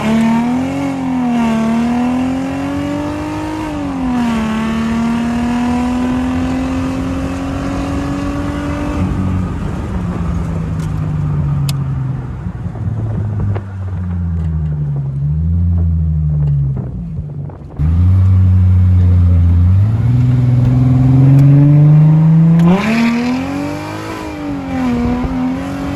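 A Mercedes AMG car accelerates hard in a full pull, its engine note climbing steadily and dropping at each gear shift, loud and close with wind noise buffeting the microphone.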